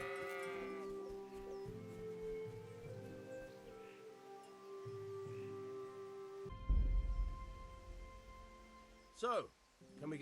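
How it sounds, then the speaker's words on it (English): Sheep bleat in the medieval game Kingdom Come: Deliverance, a long wavering bleat over soft background music, then a sharper short bleat near the end, with a voice briefly talking. "Oh, teleporting sheep."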